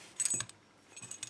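Keys for an ACE 5-pin padlock jangle in two brief metallic bursts of clinking, close and fairly quiet, with a short pause between them.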